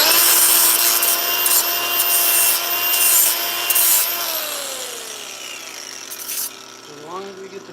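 Burrs being rubbed off a flat bed, a steady, dense scraping rasp with a faint whine running beneath it. It thins and fades over the last few seconds.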